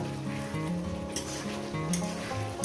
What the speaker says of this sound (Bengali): আমার দু মিনিট হয়েছে কষিয়েছি আরও দু মিনিট কষাবে